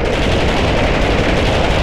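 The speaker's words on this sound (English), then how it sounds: "the menus in this game use really loud, hilarious gun sounds when you highlight something" A loud gun sound effect plays when a menu item is highlighted in the Army Men video game: a dense, rapid burst of machine-gun fire that stays loud for the whole two seconds.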